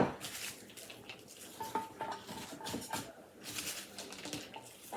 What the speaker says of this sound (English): what I like to do is I like to put that cabbage in around the roast